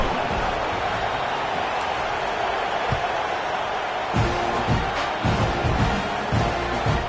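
Stadium crowd at a college football game, a broad continuous roar of many voices with some louder thumps and swells of cheering, heard from within the stands.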